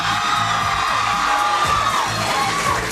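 A crowd of rabid fans in Toronto shouts and cheers continuously, loud and close, with high whoops and screams over a dense roar of voices.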